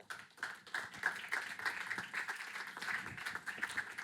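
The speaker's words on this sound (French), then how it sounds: "vous pouvez les applaudir s'il vous plaît" A small audience applauds panelists at a conference session, a thin patter of hand claps lasting a few seconds, moderately close and fairly light.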